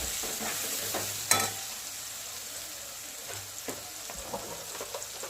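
Masala with garam masala stirred and sautéed in a pan for aloo matar pulao, a close, steady sizzle with scraping stir strokes and a sharp clack near the start, no talking.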